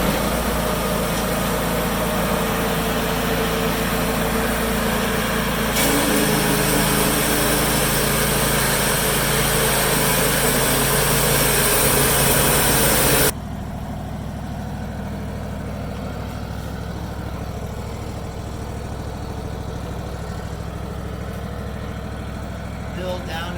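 A small sawmill engine runs loud and steady while a 14-foot cedar log is milled into 2x10 boards, a constant close drone that drops to a lower, quieter hum partway through.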